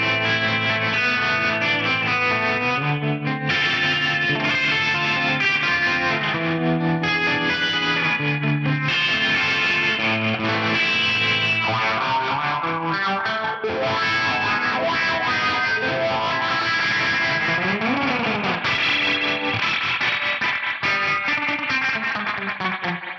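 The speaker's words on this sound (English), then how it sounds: "I really, really enjoy that combination of spring reverb and trem." An electric guitar played through an FM9 with spring reverb and tremolo gives a wet, warbling effect and lingering echoey tails, continuous and fairly loud with no voices.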